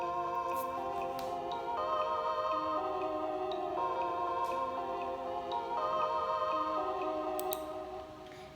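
Trap beat made in Soundtrap playing back at 120 BPM, with steady layered synth chords and a light ticking hi-hat pattern running continuously, fairly loud and even, with no talking.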